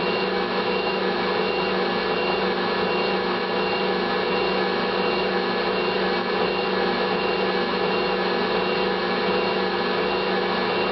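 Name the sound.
Electrolux Magic Mill mixer running, kneading bread dough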